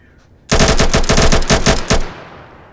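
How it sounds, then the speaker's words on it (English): A light machine gun fires in Atom RPG, a loud, close, sustained automatic burst of rapid evenly spaced shots lasting about a second and a half, then a fading tail. "So I'm just testing how good this rifle actually is, this automatic gun, this light machine gun."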